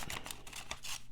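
Spring-loaded multi-tool scissors snip through paper in a quick run of about five crisp, close cuts, each a sharp rasping slice, with no voice over them.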